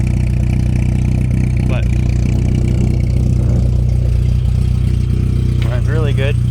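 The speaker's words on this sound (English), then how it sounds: "I got one of those fancy exhausts on the back, so it's a little louder than normal." An MK2 Jetta engine with an aftermarket exhaust idles roughly nearby, giving a steady low drone with an uneven pulse. Someone talks over it.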